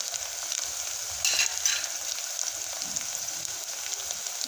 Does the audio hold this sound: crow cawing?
no